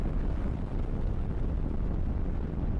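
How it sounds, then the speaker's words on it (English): Violent tornado wind roars in Tornado: Research & Rescue, a dense, loud, steady rushing blast that buffets without pause for a few seconds. "244 mile per hour wind speeds."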